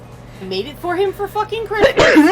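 Someone talks, then a single sharp, explosive sneeze bursts out near the end, close and loud.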